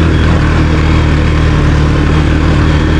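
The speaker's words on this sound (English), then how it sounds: "you can hear the Raptor idling over my quad" A Yamaha Raptor 700 quad with a stock exhaust idling close by, a steady, loud, rumbling engine drone with a low pulsing note and no talk over it.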